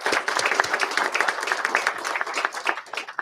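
An audience at a city council meeting gives a round of applause, with fairly quiet, even clapping of many hands that continues steadily and is heard alone.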